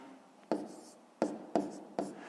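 Pen or pencil writing numbers by hand on paper during a math lesson, four short sharp scratchy strokes with pauses between, close and fairly quiet.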